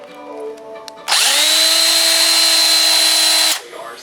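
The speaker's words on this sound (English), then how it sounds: "so I gotta drill 4 holes here" A power drill whines as it bores a hole in a windmill part. It spins up sharply, holds a steady high-pitched whir for about two and a half seconds, then stops abruptly, with faint handling noise before and after.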